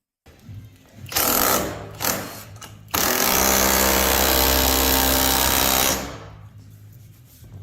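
A vibrating automatic hammer mini-tapping a nail in flush, heard up close as short buzzing bursts followed by a sustained, rapid mechanical rattle lasting about three seconds before cutting off.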